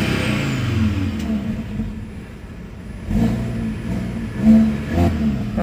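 Audi RSQ3 with a 400 hp five-cylinder engine revving hard against the limiter, a steady idle rising into repeated sharp rev bursts, close and loud, with no talking.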